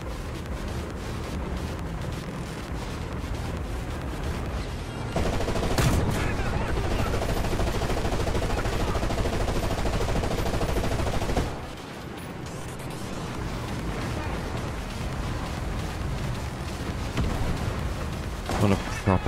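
Tank cannon fire and gunfire in a video game: dense, loud, continuous bursts of shots and blasts for the whole stretch, with a brief dip partway through and a voice talking over the battle.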